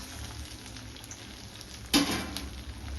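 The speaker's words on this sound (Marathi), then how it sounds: "तर आता संपूर्ण आपण बॉल्स अशाच प्रकारे तळून घेऊया" Raw banana cheese balls deep-fry in hot oil, a steady close crackling sizzle with a sudden louder burst of bubbling about two seconds in, no talking.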